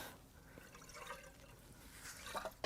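Water trickles and drips from a removed turbocharger off a 2015 Volvo XC60 T5 2.0L engine, a faint, uneven splattering with a few soft spatters near the end.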